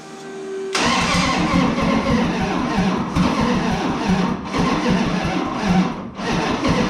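A Hemi V8 in a step side pickup cranks and fires after a quiet start, then runs loud and rough with uneven surging revs and brief dips.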